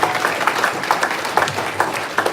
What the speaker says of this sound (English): So you can just give them one round of applause again,